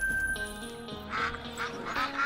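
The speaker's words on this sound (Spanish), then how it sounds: "Escuchamos ahí a los patos" Mallard ducks quack repeatedly in theHunter Call of the Wild, a cluster of nasal calls overlapping near and mid-distance over a steady game ambience, with no talk.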